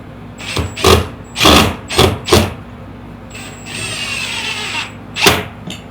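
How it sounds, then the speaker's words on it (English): Cordless power drill driving two screws to mount a horn on a small fishing boat, several short loud whirring bursts with pauses between, then a longer steady run and one more burst. "So I got two screws. Let's go ahead and just get that mounted right away."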